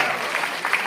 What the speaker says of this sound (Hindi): इनके लिए जोरदार तालियां हो जाएगी